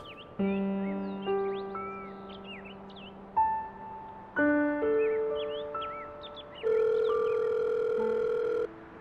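Telephone ringing for an incoming call, a bright repeating melodic ringtone played loud and steady for several seconds, with no talking over it.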